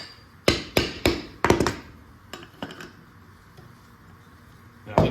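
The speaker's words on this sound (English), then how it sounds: "a couple more taps here." A hammer raps on a brake caliper tab during 1969 Trans Am Firebird subframe assembly, a quick series of sharp metallic taps in two clusters with a pause between, then one final hit.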